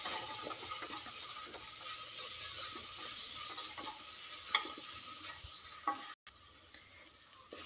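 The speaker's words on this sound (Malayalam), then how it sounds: "എല്ലാം നന്നായി വഴറ്റി വന്നിട്ടുണ്ട്" Chicken molee curry ingredients with a chicken cube are sautéed in a pan, giving a steady faint sizzle with intermittent scraping and stirring clicks and a brief dropout near the end.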